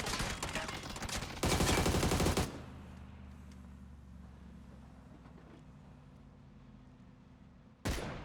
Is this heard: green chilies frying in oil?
no